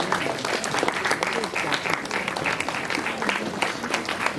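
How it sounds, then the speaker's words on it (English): An audience at a women's association International Women's Day 2023 celebration applauds the participants with steady, dense clapping that holds evenly loud throughout. "Audience, please cheer the participants, please."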